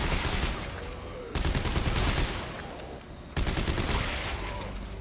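Bursts of automatic weapon fire in the video game Dead Space 3 during co-op play, two sustained loud volleys separated by a brief dip, dense and close.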